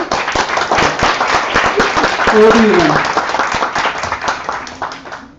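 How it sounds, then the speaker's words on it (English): Audience applause at a live GDPI session, a dense wash of clapping from a crowd that fades toward the end, with a speaker's voice briefly heard over it. "Can we have a big round of applause for them?"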